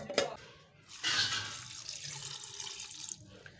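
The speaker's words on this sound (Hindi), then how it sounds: "अब हम इसमें पानी डाल देंगे।" After a soft clatter, water is poured into a pot of chicken and chana dal for shami kebab in a steady, gentle rush lasting a couple of seconds, fairly quiet and close.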